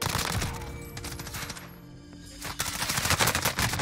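Gunfire in Call of Duty: Warzone, bursts of rapid shots crackling close and loud, easing into a quieter gap before another heavy volley.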